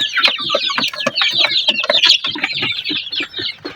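A flock of roughly 40-day-old chicks clucking and peeping in a farm pen, a dense, continuous chorus of overlapping calls close up and loud.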